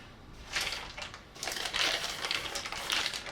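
A plastic bag with a Honda sticker, found in a Honda CBX1000 motorcycle's storage, crinkles and rustles close by in several handled bursts, crisp and loud with no talking.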